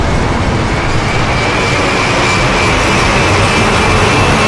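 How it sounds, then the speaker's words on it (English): A fast vehicle, such as a plane or car, recorded for game sound effects, produces a loud, close, continuous roaring rush that holds steady throughout without a break. "So we went and captured lots of fast vehicles,"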